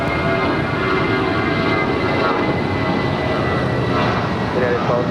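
An airliner departing at Los Angeles LAX airport, a steady loud broadband engine roar that holds throughout, with speech present underneath.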